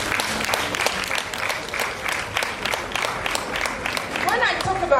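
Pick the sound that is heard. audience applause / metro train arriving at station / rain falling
audience applause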